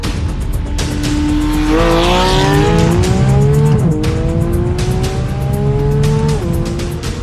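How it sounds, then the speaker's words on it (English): A drag racing car makes a pass down the track in a 1,000 hp hot rod setting, its engine a loud sustained roar that climbs in pitch through rising gear shifts, with tire noise over steady background crowd ambience. "So Amir is making some passes"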